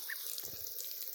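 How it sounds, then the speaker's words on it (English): Water sprays into a backyard bird bath where ducks are bathing, a close, steady hiss of splashing water throughout. "Yeah, Biscuit, you like the water."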